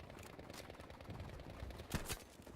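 Muffled gunfire in Battlefield 5, heard faintly as a dull, distant rattle under steady background noise, with a couple of sharper shots near the end.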